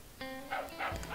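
Dog from the Putt-Putt Enters the Race video game gives a few short yips and woofs in quick succession over a faint steady game tone, close and moderately loud.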